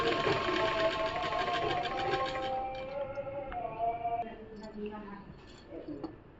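A sewing machine runs a steady rapid stitch while attaching a belt to palazzo pants, loud and continuous at first, then slowing into shorter bursts with small clicks and pauses as the fabric is guided.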